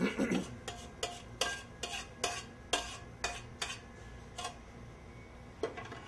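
Spoon scraping mashed refried beans out of a pan into a bowl, a steady series of about a dozen crisp metallic scrapes and taps, fairly quiet and close, no talk.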